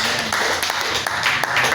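A church congregation claps for Jesus, a dense, steady wash of many hands clapping together at close range with no break.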